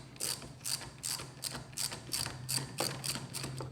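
A ratchet wrench loosens a 10mm nut on a motorcycle lever bolt of a 2019 Yamaha R3, clicking in quick, evenly spaced bursts of ratcheting, close and fairly quiet, with no talking.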